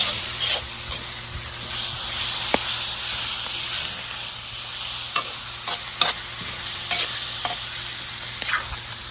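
Steak fajita strips and green peppers stir-frying in a Lodge cast iron wok over a Weber kettle grill, a steady close sizzling hiss broken by repeated sharp scrapes and clacks of a utensil stirring the food.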